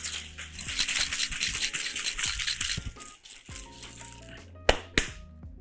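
Vigorous rattling of ice shaken inside a cocktail shaker, busy and continuous, then slowing to a couple of final knocks.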